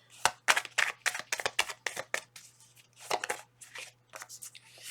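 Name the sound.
shuffling tarot cards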